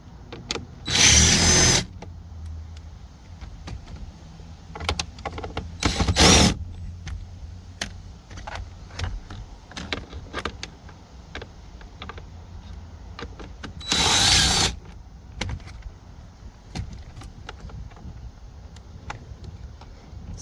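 A handheld power tool spins out 7 mm bolts on a 2020–2023 Ford Explorer dashboard: three short, loud bursts of whirring stand out against quiet clicks and handling noises, with no talking.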